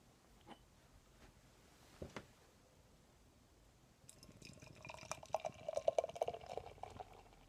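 Oskar Blues Death By Coconut Porter being poured into a glass, a faint liquid gurgle and fizz that starts quietly and swells in the last few seconds, with a couple of soft knocks earlier.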